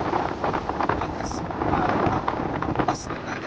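Sea wind by the coast buffets the microphone in a continuous rough rumble that swells and eases, close and fairly loud, with a few faint higher chirps above it.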